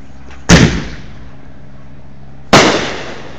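Two firework mortar shells, one after the other about two seconds apart, each a sharp loud bang with a rumbling, crackling tail that fades, heard near and without talk.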